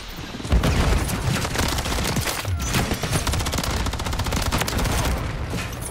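Rival-9 SMG firing in Modern Warfare III, rapid continuous automatic bursts that are loud and close, filling the whole stretch with dense shot rattle and little talk.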